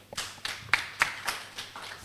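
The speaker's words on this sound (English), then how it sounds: "another round of applause" Audience applause at the launch of the Financial Reporting Awards: a sparse round of separate hand claps, fairly soft, in an uneven rhythm with a room echo trailing each one.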